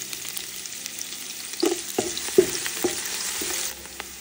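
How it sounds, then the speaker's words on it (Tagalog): Chopped garlic sizzling in hot oil in a pan for arroz valenciana, a steady close frying hiss broken by a few soft clinks and scrapes of a spatula stirring. "igigisa lang natin yung ating bawang"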